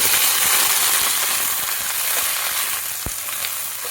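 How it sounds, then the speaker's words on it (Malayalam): Chopped okra frying in coconut oil in a pan, a loud dense continuous sizzle with faint clicks of stirring throughout, close and uninterrupted by talk. "ഇത് നന്നായിട്ട് വാടി ഒന്ന് ഫ്രൈ ആയിട്ട് വരണം വെണ്ടയ്ക്ക നന്നായിട്ട് വാടി ഫ്രൈ ആയി വന്നിട്ടുണ്ട്"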